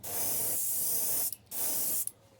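An airbrush sprays pearlized white paint onto a thin crankbait being painted in a shad pattern, with two long, steady hissing bursts separated by a short pause, close and loud.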